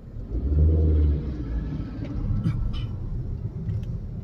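Cars pass on a road at Malshej Ghat, a low rumbling engine drone that swells early and then continues as a steady traffic murmur, with a few faint higher clicks.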